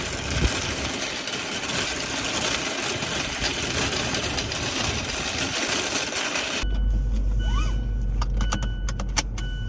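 A car's interior noise while driving off on an Instacart grocery run, a steady broadband road and engine rumble that continues throughout, followed by a quieter cabin with low engine hum and some light clicks and rattles.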